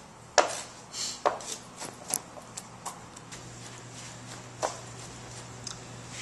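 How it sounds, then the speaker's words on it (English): Garlic is chopped by hand with a knife on a board: a series of soft, irregular chopping taps, some sharper than others, close and fairly quiet over a faint steady hum. "And voila, it's all chopped."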